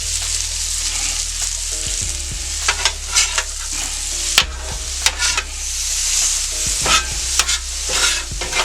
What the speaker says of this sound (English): shrimp has been cooking a minute. I'm going to go ahead and toss these around a little bit